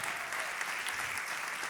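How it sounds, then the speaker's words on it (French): Church congregation applauding during a sermon, dense steady clapping from a large audience, even in level and continuous throughout the short stretch. "J'aimerais qu'on les applaudisse."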